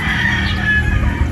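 A battle stag gamefowl rooster crows nearby in one loud, sustained, strained call that fills the moment, with steady outdoor background noise and no talking.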